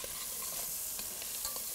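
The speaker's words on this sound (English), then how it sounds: "the goal for this bacon is just to let it render down until it's, browned and contributing a lot of flavor to this pot" Bacon rendering down in a pot for braised greens gives a steady, soft crackling sizzle with faint pops and a light stir, continuous and close for the whole short stretch.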